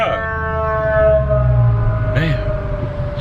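An ambulance siren wails loudly in traffic, its steady tone gliding in pitch before a short rising sweep near the end, with road rumble underneath.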